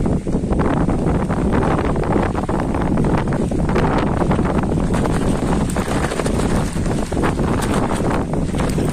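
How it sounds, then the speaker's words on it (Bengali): Strong cyclone wind sweeping over jute fields in Pabna, a continuous loud roar and buffeting against the microphone for the whole stretch, with no letup and no voices. "প্রচন্ড বাতাস"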